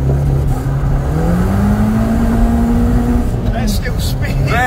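A cheap project car launches from a standstill, its engine note climbing steadily as it accelerates, then easing off near the end with a brief whine, loud and close.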